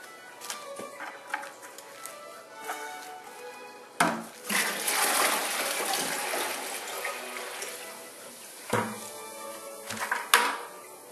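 Half a bucket of water poured into a tank before sand is added, starting with small clatters, then a loud gushing splash that lasts several seconds, followed by a few knocks and trickles as the pour ends.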